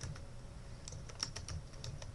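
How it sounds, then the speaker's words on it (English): Light, scattered taps on a computer keyboard while entering data, quiet clicks over a steady low room hum, with no voices. "I type that in."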